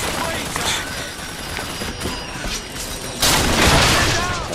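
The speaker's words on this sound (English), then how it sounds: "Where's this guy shooting from?" Gunfire in the game Bioshock Infinite rattles through a dense, noisy fight, with scattered shots and a swell of heavier blasts near the end, and a voice occasionally speaking.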